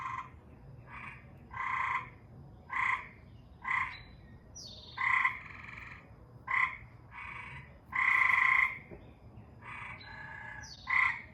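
A tree frog croaking close by outdoors at night, with loud, repeated bursts of rhythmic calls over about eleven seconds and short pauses between them, heard alone with no talking.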